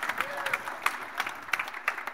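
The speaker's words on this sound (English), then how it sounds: "let's give Kathy a round of applause." Light, scattered clapping from a small church congregation, individual claps audible as sharp uneven snaps rather than a full roar, fairly close and modest in volume.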